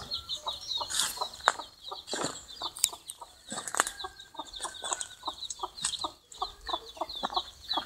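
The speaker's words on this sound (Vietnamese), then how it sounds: "Ổ gà 9 con nhà tôi đây." A hen with a brood of nine naturally hatched chicks clucking softly and repeatedly close by, with high chick peeps and some rustling and wing movement throughout.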